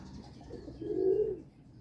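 A pigeon gives a single low, soft coo that swells and fades over about a second, close by and fairly quiet, with no voices.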